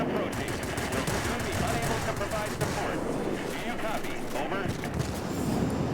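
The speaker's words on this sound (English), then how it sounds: "We've got all kinds of rockets, so let's drop these rockets, shall we?" Aircraft rockets fire in World of Warplanes from a P.1056 plane, a rapid rattling barrage of bursts over a constant engine roar, with someone talking over the action.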